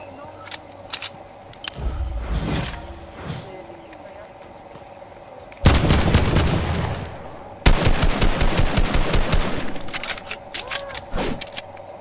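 Gunfire in Fortnite, first scattered shots, then rapid bursts of automatic fire cracking out in quick rhythmic strings, fairly close, with a voice talking briefly in between.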